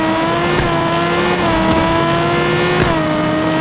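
Car engine held at high revs at the start line of a drag race in the mobile game CPM2, a steady loud drone with a few brief surges, no talk over it.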